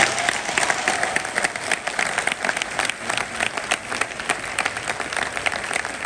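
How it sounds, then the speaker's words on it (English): Students at a university lecture applaud in a dense, steady wave of clapping that stays loud for several seconds. "if that applause was for me, then I think the dean deserves a better one"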